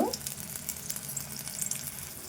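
Freshly pounded ginger-garlic paste sizzles steadily in hot oil in a pan, a soft continuous frying hiss with no voices.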